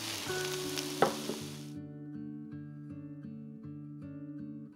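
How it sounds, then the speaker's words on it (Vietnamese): Shallots, garlic and chili hit hot pork fat in a pan with a brief bright sizzle and stirring, which quickly gives way to soft background music. "Còn một ít mỡ trong chảo, mình cho hành, tỏi, ớt vào để xào lên cho dậy mùi thơm."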